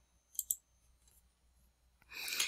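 Two quick, faint clicks of a computer mouse while working in Excel, close and crisp in a quiet room, followed by a brief burst of louder hiss or rustle.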